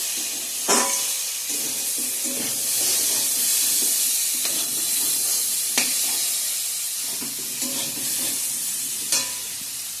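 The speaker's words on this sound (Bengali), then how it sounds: "গরম জলটা দিয়ে দিব" Hot water poured into a pan of sizzling spiced masala, producing a loud steady hiss and steamy crackle with a few sharp clicks of utensils against the pan.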